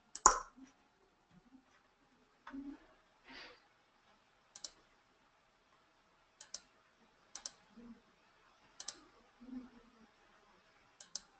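A computer mouse clicks sharply on a desk: sparse single and double clicks spaced a second or two apart, close and quiet against near silence.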